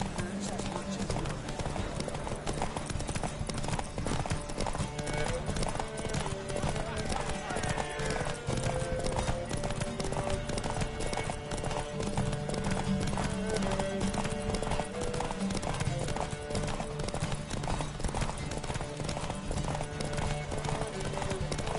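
Roach the horse gallops through a video game horse race with a steady clip-clop of hooves and an occasional whinny, layered under continuous game music and a speaking voice.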